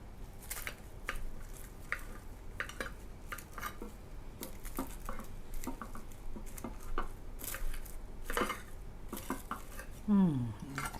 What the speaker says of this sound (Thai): หั่นครึ่งนะฮะ